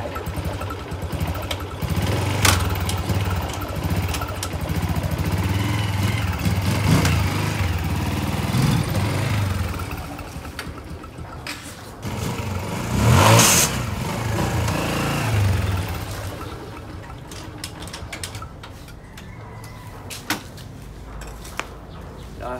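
Yamaha Exciter 2010 motorcycle fitted with an Uma racing bore kit, its engine idling steadily with a sharp rev burst near the middle, close and loud throughout with no talk.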